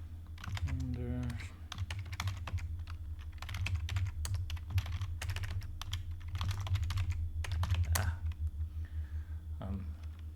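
Continuous clicking of keys on a computer keyboard, close and fairly quiet, with irregular bursts and pauses over a low background hum and a brief murmur of voice.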